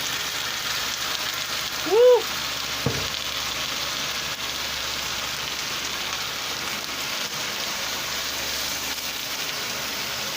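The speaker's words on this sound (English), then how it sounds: "Listen to that sizzle." Steady broadband sizzling of cheesesteak meat frying on a hot griddle, continuous throughout, with a brief whoop from a voice early on.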